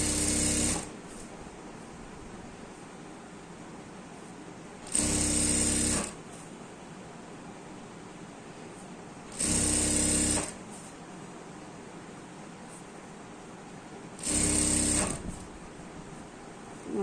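A sewing machine stitches elastic onto a salwar in four short, loud mechanical bursts of about a second each, separated by quiet pauses of several seconds.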